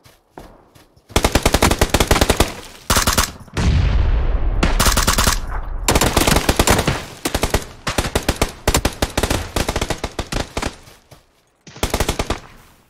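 Sustained automatic gunfire from a video game, loud rapid bursts of machine-gun fire with brief pauses between volleys, continuing for most of the stretch and cutting off abruptly near the end.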